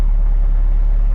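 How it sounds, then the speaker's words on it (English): A Toyota MR-S with a swapped 20V turbo engine on 1300cc injectors idles with a steady, loud low rumble, close and alone with no talk. "it's now idling and revving and not stalling"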